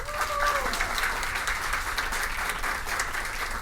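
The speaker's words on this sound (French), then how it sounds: "Maintenant, nous applaudissons le tout." Sustained audience applause fills a school event honoring a match's best player, dense steady clapping from a crowd at even loudness with no break.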